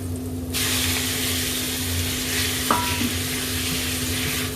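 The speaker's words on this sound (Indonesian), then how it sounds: "Akan aku masukkan daging sapinya." Beef goes into a hot pan of browned aromatics for a mushroom and choy sum stir-fry, setting off a sudden loud, steady sizzle with a single sharp clink partway through and no talking.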